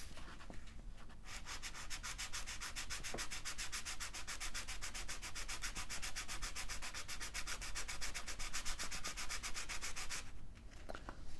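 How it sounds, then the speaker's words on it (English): A bone guitar nut is sanded by hand with firm, even pressure, giving a loud, steady, fast back-and-forth rasping that runs continuously for about nine seconds, with brief handling noises before and after. "sanding, I'm trying to exert as much pressure as evenly as I can, so that I don't have any unevenness."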